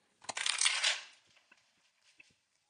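Tarot cards being shuffled by hand: one brisk, papery riffle lasting under a second, followed by a few soft, scattered taps and clicks as the deck settles.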